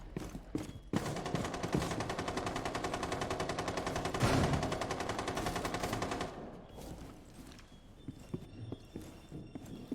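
Rapid automatic gunfire in Rainbow Six Siege, shooting through a big window, sounds as a loud sustained burst of closely spaced shots for several seconds, then stops, leaving scattered softer clicks and footsteps.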